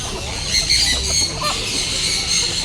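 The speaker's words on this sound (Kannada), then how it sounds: "ಕೋಳಿ ನೋಡಿ, ಡಿಫ್ರೆಂಟ್ ಆಗಿದೆ" Chickens squawk and cluck in a noisy outdoor setting in Coorg, with overlapping bird calls.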